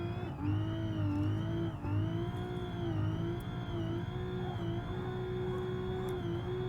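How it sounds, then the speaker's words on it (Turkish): Car engine in the BeamNG driving game while drifting, a steady high revving drone with slight pitch swells as the throttle shifts, loud and continuous with no talk. "Gördüğünüz gibi 10 numara drift atıyorum artık"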